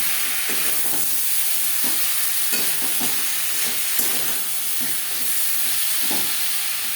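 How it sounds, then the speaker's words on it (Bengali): A spoon scrapes and stirs ground spices and potatoes in a pan for fish curry in a loose rhythm of knocks, over a steady sizzling hiss, close by with no speech. "গুঁড়ো মশলা আলুর সাথে বেশ ভালো করে মিক্স করে দেবো"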